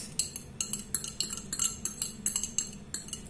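A utensil stirs food in a dish, giving quick rhythmic metallic clinks and scrapes against the cookware, close and fairly loud with no voices.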